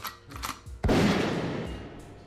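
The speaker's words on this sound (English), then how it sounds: "Let me get the gunshots for Rudy Lowe." A loud gunshot blast booms and decays into a long rumbling echo, preceded by some brief clatter.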